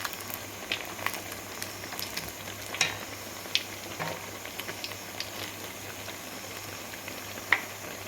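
Old rice vadai, a fritter made from leftover cooked rice, frying in hot oil and turned repeatedly until crisp and reddish-brown, with a steady soft crackle and a few sharper pops, fairly quiet and close.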